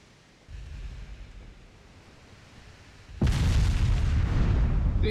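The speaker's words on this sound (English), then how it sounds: "Fire HE at him." Heavy naval gunfire erupts in Ultimate Admiral Dreadnoughts as warships fire high-explosive shells, a loud booming burst that swells and holds after a quieter rumbling stretch.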